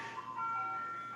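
Ice cream truck jingle playing Turkey in the Straw, a thin tinkling electronic melody heard from a distance outdoors, steady and fairly faint with no talking over it.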